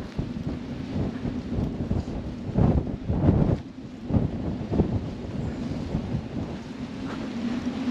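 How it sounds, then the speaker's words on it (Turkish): Strong wind at Cabo de la Vela buffets and rumbles across the microphone in gusts, with low booming surges and a steady roar, no voices. "Fena bir rüzgar varmış yalnız ha."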